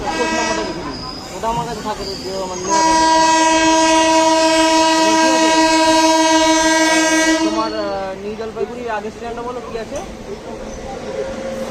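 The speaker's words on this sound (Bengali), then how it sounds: "চলো ট্রেন ছাড়ুক" Digha special train 02897 departing on the Santragachi to Digha run, its horn blaring loud and sustained for about five seconds over rail and carriage noise, with a person talking before and after.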